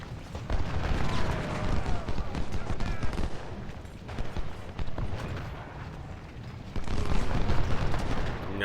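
Musket volleys crackle in the Civil War strategy game Ultimate General: Civil War, a steady rolling clatter of many distant shots and booms that swells again toward the end.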